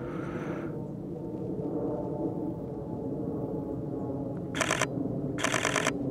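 Two quick bursts of a single-lens reflex camera's shutter firing in rapid succession while photographing a male redstart outdoors, crisp and close over a steady low background rumble.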